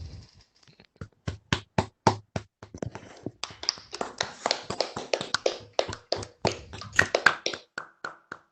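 Scattered hand claps from a few unmuted participants on a video call after a physics talk, irregular and close-miked, building into a loose patter before thinning out.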